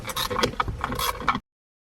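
A ratchet wrench with an 8 mm socket undoes the bolts of a 2014–2023 Jaguar F-Type airbag module, a quick run of close, dry clicking that stops abruptly.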